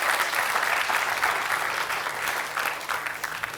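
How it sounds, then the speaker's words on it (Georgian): A studio audience applauds on a Georgian comedy game show, a steady, dense wash of clapping that holds at an even level throughout. "აპლოდისმენტები"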